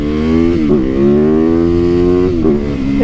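Supermoto motorcycle engine droning loud and close throughout, with steady harmonic pitch rising slightly between gear shifts or throttle changes around the one- and two-and-a-half-second marks.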